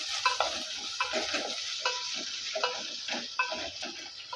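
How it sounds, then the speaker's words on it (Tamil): Chopped onion and a green chilli sautéed in a pan for fish curry: repeated close spatula scrapes and clinks in an uneven rhythm over a soft, steady sizzle, with no talking. "ஒரு பச்சை மிளகா இப்போ அதையும் நம்ம வதக்கி எடுத்துக்கலாம்"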